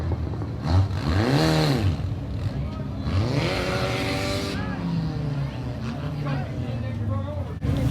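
Mini stock race cars pass at Oyster Bed Speedway, engine whines swelling and falling as they go by, while an announcer talks over the track noise.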